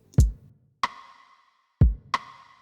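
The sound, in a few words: snare drum rim shot with reverb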